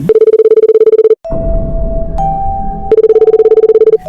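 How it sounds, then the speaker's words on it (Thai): A mobile phone rings loudly and close with a rapid pulsing electronic tone that stops, gives way to sustained tones, then resumes the fast pulsing pattern, with no voices. "ยังไม่ทันไรเสียงโทรศัพท์ของผมก็ดังขึ้น"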